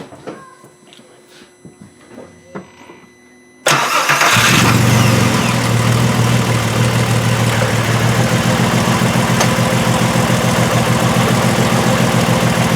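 A 2002 Volkswagen Jetta VR6 with injector circuit faults and a misfire cranks and fires abruptly after a few seconds of quiet shop noise, then settles into a loud, steady idle close by that runs to the end.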